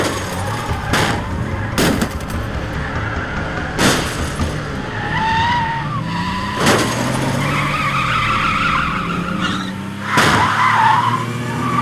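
A car skids hard to a stop, its tires screeching in a long, loud squeal broken by several sharp thumps, with engine noise underneath throughout.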